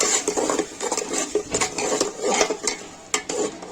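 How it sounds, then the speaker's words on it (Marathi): Tomato puree for paneer rice is stirred in a cooking pan, a close, continuous scraping and wet squelching with quick irregular strokes and faint sizzling underneath, with no voices. "हे आपण टोमॅटोची प्युरी टाकलेली आहे, तिला छानपैकी मिक्स करून घ्यायची आहे"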